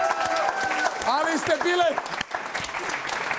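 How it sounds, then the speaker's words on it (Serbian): Studio audience applause on a comedy talk show rolls steadily under a voice speaking loudly over it, clapping continuing to the end. "Aplauz Marijane ovde na Novčić"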